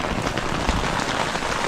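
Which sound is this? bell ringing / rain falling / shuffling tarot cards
rain falling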